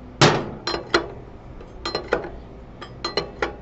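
A large wrench snugs up the axle nut on a Harley Sportster during drive belt adjustment, giving about nine sharp, close metallic clinks in irregular clusters with brief pauses between them.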